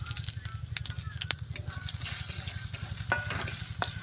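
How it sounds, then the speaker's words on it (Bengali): Crushed garlic frying in hot oil with a spoonful of five-spice seeds in a home kitchen, a continuous close sizzle with scattered sharp crackles and pops, no talking over it. "খুব সুন্দর করে কিন্তু রসুনটাকে লাল লাল করে ভেজে নেবো"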